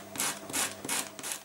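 Sanding a homemade paper blending stump to a point, four steady rhythmic abrasive rubbing strokes, close and fairly loud, with no talking.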